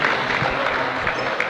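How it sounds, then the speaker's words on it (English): Crowd in a high school gym applauding an injured player during a boys basketball game between Garden City and Guymon, a brief dense patter of clapping with murmuring voices underneath. "round of applause from the crowd here"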